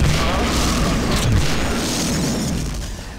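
Loud, dense shooting and booming blasts from an enemy in System Shock 2 fill the space continuously, with no talk.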